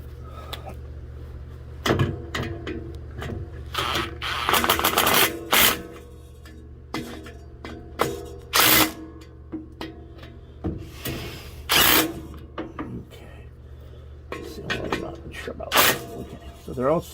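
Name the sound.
impact wrench tightening bolts on RV generator exhaust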